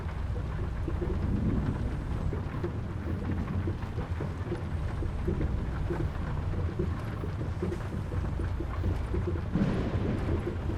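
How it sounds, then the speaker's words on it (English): Heavy rain pours steadily on a truck parked in the Australian outback during a storm in a truck-driving game, forming a dense, continuous low roar with no pauses and no voices. "This is the heaviest I've seen the rain so far."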